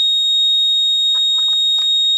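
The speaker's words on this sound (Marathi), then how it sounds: "टाकी फुल भरली नंतरच अलार्म वाजत आहे" A water tank full alarm rings as one loud, continuous electronic tone, with faint shuffling and knocks beneath it.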